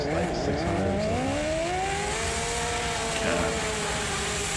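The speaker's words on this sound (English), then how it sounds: "Sounds like it's got like a R1 or a Hayabusa engine in it" An off-road side-by-side with a sport-bike engine such as an R1 or Hayabusa screaming at high revs, the pitch climbing and falling steadily, loud and continuous under background talk.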